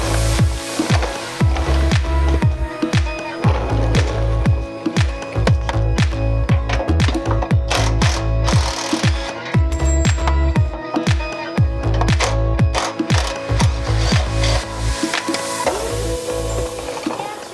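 A ratchet removing exhaust nuts on a Goodwin Roadster, with rapid, close, loud clicking in repeated bursts and a metallic tapping rhythm that runs steadily throughout, no talk.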